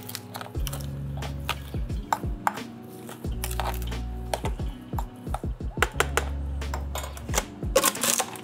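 A food processor pulses cranberries and orange in a run of short bursts, each motor whir starting and stopping in turn, with sharp clatters between pulses, loud and close.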